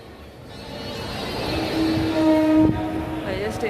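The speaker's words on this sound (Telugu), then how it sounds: "విశాఖపట్నం రైల్వే స్టేషన్ ఇది." Inside Visakhapatnam railway station, a train rumbles with a broad, steady roar that swells midway, and a short, tonal horn or whistle cuts in near the end.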